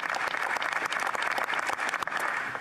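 Applause during a televised speech in a parliamentary chamber, crisp individual claps from a modest group forming a brisk, irregular patter that fills the moment without talk.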